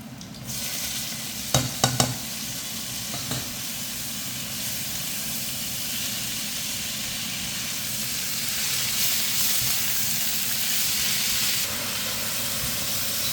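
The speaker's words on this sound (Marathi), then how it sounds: "आता आपण हा ब्लांच केलेला ब्रोकोली कांद्यामध्ये घालून परतून घेऊयात." Blanched broccoli tossed with onions in a hot pan hisses loudly and steadily, with a cluster of stirring clatters near the start before the sizzle settles into a constant, close wash.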